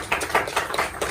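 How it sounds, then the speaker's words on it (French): An audience at a book launch applauds, with several bursts of clapping, dense and fairly loud, heard alone over a short stretch. "Est-ce qu'on peut applaudir très fort, s'il vous plaît? Applaudissez, applaudissez."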